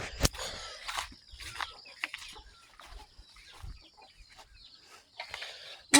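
A mother hen gives soft, intermittent clucks near the microphone, mixed with scattered scuffs and footstep-like taps and no talking.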